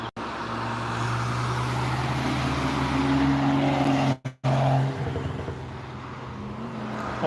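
A supercharged Dodge Challenger passes on the Nürburgring, a loud sustained engine drone with steady tones that holds nearly throughout, cuts out abruptly for a moment, then returns and trails off.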